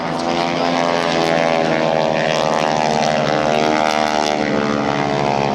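A Harvard propeller trainer airplane flies at an airshow with a loud, steady, droning piston engine and buzzing propeller that holds constant throughout.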